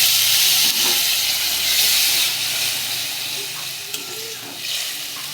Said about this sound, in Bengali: আদা রসুন কাঁচা লঙ্কাটাকে আমি ভালো করে একটু কষাবো।